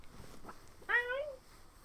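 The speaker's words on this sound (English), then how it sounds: "because my cat was meowing at me" A cat's single meow rises briefly over faint background speech and game sounds, moderately close but fairly quiet.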